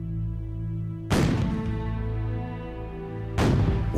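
Two cannon blasts fired at a naval funeral for the battleship Maine, each a sudden loud boom over a steady background of music or hum, the first about a second in and the second roughly two seconds later.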